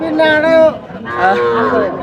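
Dairy cow at the Ratankandi cattle market in Sirajganj lowing loudly in two drawn-out, harmonic moos, close to the listener, with faint market chatter underneath.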